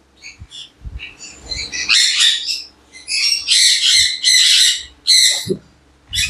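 Adult sun conures at an exotic bird breeder's home give loud, harsh squawks in bursts, with softer chirps and calls from other birds around them, close and unaccompanied by speech.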